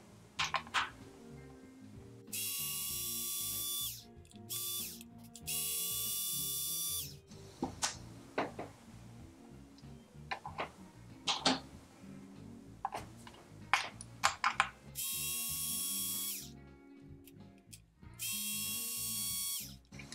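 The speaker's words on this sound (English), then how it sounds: "There are four screws to remove." Small 2mm screws being removed from the receiver box of a RACECAR/J chassis with a power driver, several short whirring bursts of the motor separated by quieter clicks and handling sounds, close and fairly loud, with no talking.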